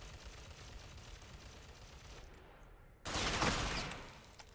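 Video game gunfire from Tom Clancy's Ghost Recon Phantoms: a steady rattling noise gives way to a sudden loud burst of automatic fire lasting about a second, then fading.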